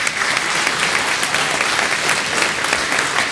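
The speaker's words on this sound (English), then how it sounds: "So let's get another round of applause for all of our nominees." Sustained, loud audience applause fills a hall at a chamber of commerce awards gala, a dense steady roar of many hands clapping together for the nominees with no break.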